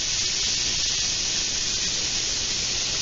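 Hot Italian ground sausage sizzles in a preheated skillet for a cabbage roll casserole, a steady, dense, close hiss that holds level throughout with no talking.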